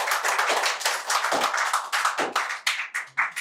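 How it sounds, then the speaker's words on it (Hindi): An audience at a poetry (shayari) event claps, sharp, close individual claps that form a quick, uneven run and then thin out into a few separate claps toward the end. "एक बार जोरदार ताली बजाइए"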